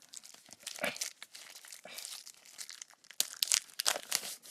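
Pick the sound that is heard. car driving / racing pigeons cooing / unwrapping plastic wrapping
unwrapping plastic wrapping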